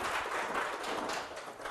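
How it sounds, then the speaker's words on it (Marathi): A podcast audience claps loudly, a dense, steady wash of hand claps sustained throughout without talk. "जोरात टाळ्या"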